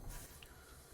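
Air brakes being set on a Union Pacific GP38-2 diesel locomotive in Train Simulator 2020, a faint, steady hiss of venting air with a brief higher squeal partway through.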